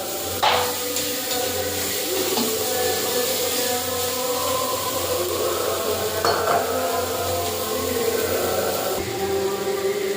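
Spice paste (masala) frying in oil with salt and cumin, a continuous close sizzle with a few faint utensil knocks, steady and even throughout.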